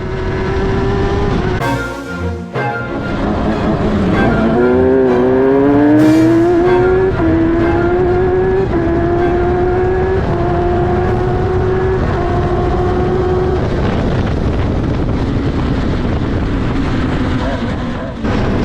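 An F1000 race car heard onboard during a 2023 season race, its engine screaming and rising through the gears as it flies past rivals into turn 1, loud and close with a brief drop near the start.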